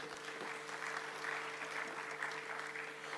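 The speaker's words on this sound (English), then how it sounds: "Can we do one big round of applause for them?" Sustained applause from a large audience at a journalists' awards ceremony in a hall, a steady dense wash of clapping heard alone throughout.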